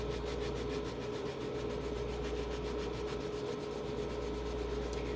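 Wet sandpaper is rubbed over a paper-covered ornament to sand the paper off, a continuous rapid back-and-forth scrubbing heard close and steady, without talk.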